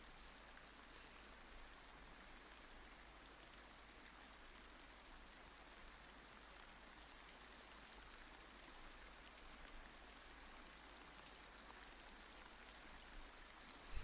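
Steady rain in the background, a soft continuous patter and wash of drops on surfaces, even and unbroken throughout at a low, distant level.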